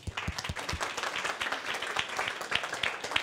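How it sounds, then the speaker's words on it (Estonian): Small seminar audience clapping in a room, a brief round of scattered, uneven hand claps with a light crowd texture, close and moderately loud, no talking over it. "Väike aplaus."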